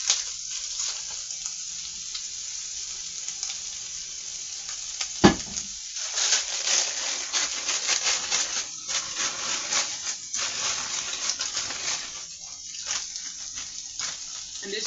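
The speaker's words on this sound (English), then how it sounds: "I'm going to put some mixed vegetables in this pot" A bag of mixed vegetables cooks in a pot with liquid, giving a continuous close sizzle and bubbling, punctuated by a sharp knock and stirring scrapes partway through.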